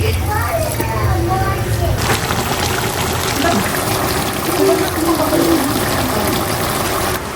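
Water pours and splashes into a cooking pot for braised pork in shrimp paste amid busy background noise and voices, a continuous wet rushing that runs the whole stretch.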